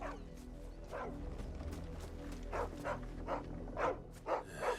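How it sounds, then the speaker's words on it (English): A dog in the video game Final Fantasy 16 gives a run of short yipping barks, sparse at first and then coming in quick bursts, fairly close over a steady game background. "Oh, there's a dog."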